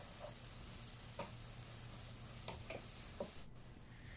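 Crushed ginger and garlic frying in a pan while being stirred for Arabic rice, a soft steady sizzle with a few light stirring clicks and scrapes.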